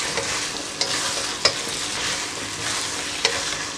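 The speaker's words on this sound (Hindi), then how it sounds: "चंद सेकंड के लिए आपने इसको फ्राई करना होगा।" Masala chickpeas frying in a pan, a steady broadband sizzle with a few sharp scrapes of the stirring spoon, close and moderately loud, no voices.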